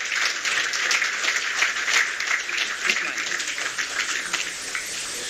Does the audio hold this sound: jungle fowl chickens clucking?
no